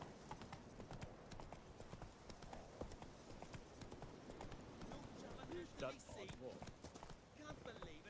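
Horse hooves galloping in The Witcher 3, a quiet, rapid steady clip-clop running under game music and ambience, with people talking over it.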